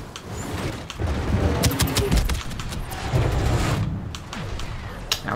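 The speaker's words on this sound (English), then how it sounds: "Now we're getting strafed too." Strafing gunfire in the Star Wars Battlefront 2 video game: sharp bursts and cracks scattered over a dense, loud battle din, with a cluster of rapid impacts near the middle and end.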